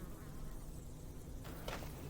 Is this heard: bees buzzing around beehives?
yes